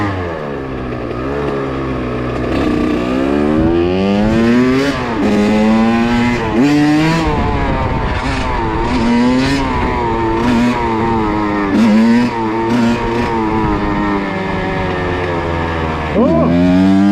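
Motorcycle engine revving and fluctuating in pitch during no-hands wheelie practice, near and loud throughout, with rising and falling throttle sweeps and some wind rush.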